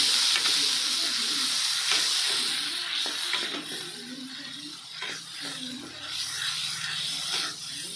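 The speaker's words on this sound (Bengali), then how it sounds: "অল্প পরিমাণ জল দিয়ে মশলাটা ভালোভাবে কষিয়ে নেব" Chopped tomato and spice masala frying with a little water in a pan for an egg curry, a steady hiss and sizzle with soft stirring scrapes throughout.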